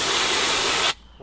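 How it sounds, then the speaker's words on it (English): A public air hose blows a loud, steady hiss of compressed air to clean off dust, running close for about a second before cutting off abruptly. "have a public service and air hose to clean yourself"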